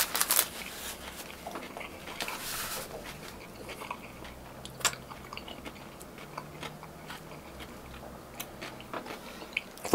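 Close, crunchy bites into a fried shrimp burger, followed by irregular chewing with sharp crackles and soft mouth sounds, no talking.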